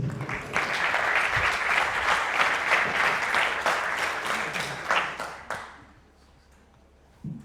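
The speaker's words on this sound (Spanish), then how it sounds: "Si quieren pueden aplaudir." An audience at a cybersecurity conference talk applauds for about five seconds in a dense, lively wave of clapping that fades out quickly into near quiet, followed by a brief noise at the end.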